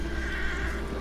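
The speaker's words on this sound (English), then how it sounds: "I hear your horse, though, I think" A horse in the video game Red Dead Redemption 2 Online whinnies, a short, steady neigh sounding alone over a low background hum.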